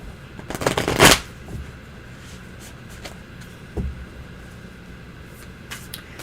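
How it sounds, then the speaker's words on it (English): Tarot cards shuffled by hand at a reading, a brisk close riffle building to a loud burst, followed by a few faint taps and card handling in a quiet room. "Okay, so we are going to pull your card. And you shuffle first again."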